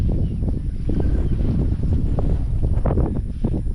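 Strong gusts of wind on Mount Naupa peak in Cebu batter the microphone, producing loud, uneven buffeting and rumbling that rises and falls without any voices.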